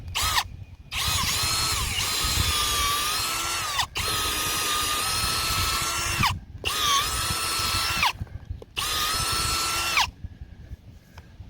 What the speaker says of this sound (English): We'll take our drill.